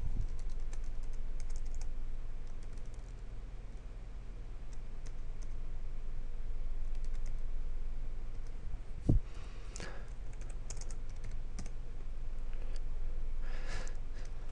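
Computer keyboard typing while a script is written, soft steady key clicks under a constant low hum, with one sharper knock near the middle.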